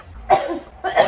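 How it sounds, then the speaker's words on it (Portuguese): Two harsh, close coughs from a woman, separated by a short pause. "Quando essa tosse começa,"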